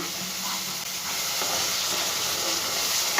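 Spice paste fries in oil for a vegetarian pointed gourd dish, giving a continuous close sizzling hiss that stays even and bright from start to finish.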